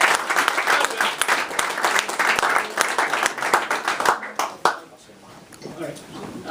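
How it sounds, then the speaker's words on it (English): A room full of people at a political talk on General Assembly races gives a warm round of applause, dense close clapping that thins out and fades toward the end, with some voices mixed in. "please give a nice round of applause to Ben Tribbett."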